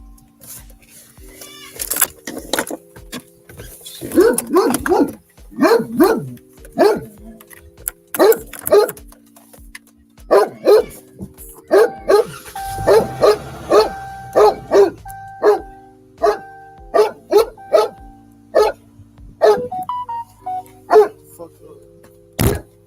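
A dog barks repeatedly in short sharp bursts, some close together, over a long stretch. The barks come mixed with people talking in the background.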